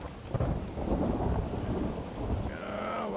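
A thunderstorm at night, with deep rolling thunder and steady heavy rain filling the scene, and a higher tonal sound entering near the end.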